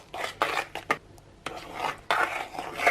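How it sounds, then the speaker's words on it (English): Whipped cream being folded into whipped cream cheese in a bowl: a close spatula scrapes and rubs against the bowl in several short strokes with brief pauses, no voices. "gently fold it all through and together until I've got a nice"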